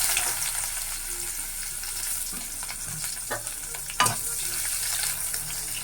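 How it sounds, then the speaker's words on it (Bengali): Onions frying in the same pan just used for chilies and garlic sizzle steadily up close, with occasional spoon scrapes and one sharp clack against the pan. "এখন আমি পেঁয়াজটা সে পেঁয়াজটা ভেজে নেব"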